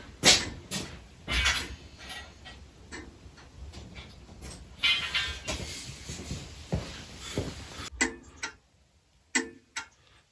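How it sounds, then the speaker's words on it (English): A vehicle's rear blinker clicks in a steady ticking rhythm, close and fairly quiet, with a few louder knocks and handling noises mixed in. "That's the sound of blinkers working."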